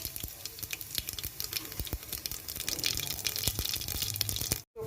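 Cumin seeds sizzle in hot mustard oil while cooking mutton gravy, with a steady close crackling fizz and scattered sharp pops, ending in a brief drop-out.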